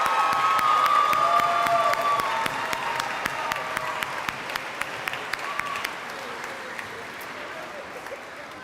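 Sustained applause from a crowd at a 12th grade graduation ceremony, dense clapping fading gradually from loud to moderate with some cheering mixed in.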